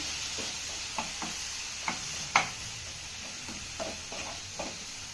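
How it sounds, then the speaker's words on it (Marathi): Tamarind pulp stirred into okra frying in a pan for a South Indian coconut okra dish: a steady soft sizzle with several sharp spoon scrapes and taps at irregular intervals, close and fairly quiet. "चिंचेचा कोळ आपल्याला चांगला मिक्स करून घ्यायचा आहे"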